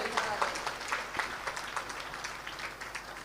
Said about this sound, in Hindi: एक बार अच्छी ताली बजाकर इस बालक का स्वागत करिए